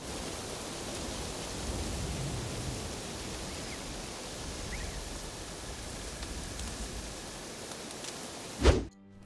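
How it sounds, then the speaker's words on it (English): Wind whipping through trees with rain driven sideways in the Assassin's Creed Shadows video game, a dense, steady hiss of rainfall and rustling that holds evenly throughout, ending in a brief sharp knock. "The sound of wind whipping through the trees as rain darts sideways is so good"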